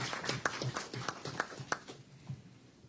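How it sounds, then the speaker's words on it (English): Audience applause at a press conference on Carifesta participation and post-hurricane updates: a short burst of scattered hand clapping from a modest crowd, sharp individual claps near the start that thin out and fade to quiet after about two seconds. "Give her a round of applause, please, ladies and gentlemen."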